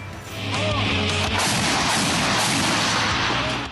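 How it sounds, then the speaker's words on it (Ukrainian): Ammunition in a vehicle cooking off after an FPV drone strike, a continuous loud roar of detonations and crackling blasts that fills the whole stretch, starting with a sharp burst and rolling on without pause. "Боєкомплект бурхливо детонував після влучання."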